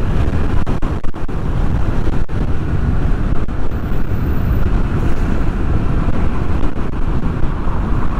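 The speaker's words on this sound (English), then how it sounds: "Jeez, it's windy." Strong wind roars into a motorcycle rider's microphone, a loud, steady buffeting rush with gusty fluctuations that fills the whole stretch without any talk.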